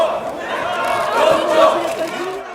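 South Korean opposition lawmakers in the National Assembly chamber shout in protest as the speaker forces the session ahead. Many overlapping angry voices form a loud, swelling crowd din with no single clear speaker.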